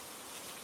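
Rain falls steadily as a soft, even hiss of many drops, faint and unbroken throughout a brief moment.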